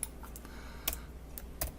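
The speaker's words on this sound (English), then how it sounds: "Typing is hard." Keys clatter on a computer keyboard during coding work, a quiet, close run of irregular clicks with a couple of slightly louder strokes, alone without talk.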